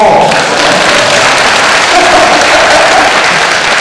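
A large audience at a Korean political speech breaks into loud, dense applause that fills the whole stretch without pause, a steady wash of many hands clapping close by.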